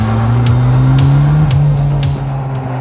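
A Mercedes 190E race car accelerates hard on track, its engine roaring loud and close with rising revs, a gear change dip midway, and brief rear tire squeal as the tires spin under throttle.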